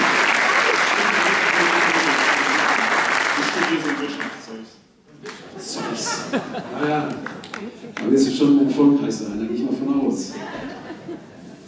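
Loud applause for a tenor saxophonist at a school graduation farewell event, lasting about four seconds before dying away, followed by chuckling, laughter and talk from the crowd.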